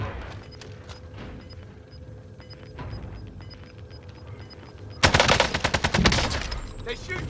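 Bursts of rapid video game gunfire erupt suddenly near the end, loud and dense rattling volleys, after a stretch of quieter in-game ambience with distant shots.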